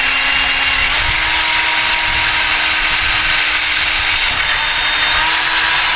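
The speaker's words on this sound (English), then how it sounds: "I've had to drill these out a little bit" A power drill boring out small metal hold-downs to fit 3/16 rivets, a loud continuous whining motor with a steady high buzz, close and alone throughout, with a brief dip in pitch near the end.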